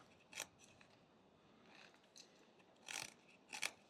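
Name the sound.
knife cutting wood while whittling a bear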